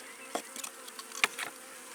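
A few honeybees buzz faintly around the frames of a nucleus hive, with short intermittent hums close by and no talking.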